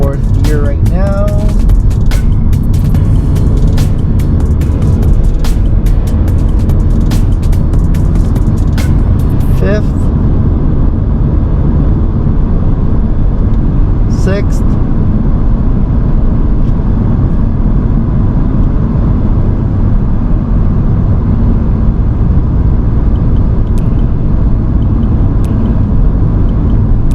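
A 2019 Honda Civic drives in fourth gear with the paddle shifters engaged, a steady loud engine and road rumble inside the cabin throughout, with a few brief clicks and someone talking over it.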